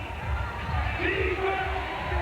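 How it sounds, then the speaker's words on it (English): Crowd at a 2003 NBL basketball final at Mystery Creek, Hamilton, rising into a rhythmic chant, a broad roaring wash with pulsing low voices throughout, while a commentator talks over it. "The crowd starts the chant."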